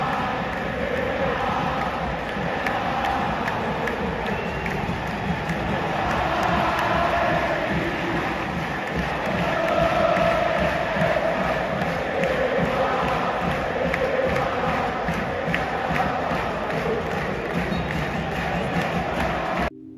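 Argentina supporters roar and chant through a World Cup stadium during the match against Australia, a dense, steady crowd din that swells around the middle, with faint voices mixed in.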